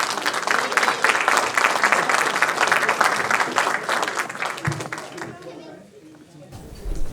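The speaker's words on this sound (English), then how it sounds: "Let's give them a lovely round of applause." Loud, sustained applause and clapping from an audience at a cultural festival, greeting a group dance performance, with children's voices and chatter mixed in before the clapping fades out near the end.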